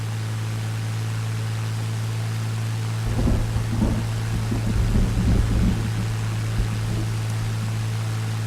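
Thunder rumbles during a lightning storm in Flight Simulator 2002, a low rolling boom that swells for several seconds over a steady cockpit engine drone.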